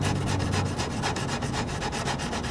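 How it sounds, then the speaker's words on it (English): Sandpaper is rubbed back and forth on a carbon fiber panel during a repair, close and continuous with a rhythmic rasping texture, with no voices. "taking sandpaper to your carbon fiber, but it's right on the bottom"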